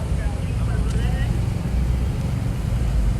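Loud, steady low rumble of a car engine idling close by, with wind buffeting and faint voices in the background.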